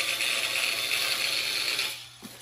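Ratchet wrench loosening large bolts on a Humvee, a close, fast, continuous metallic clicking that stops abruptly near the end, followed by a single soft knock.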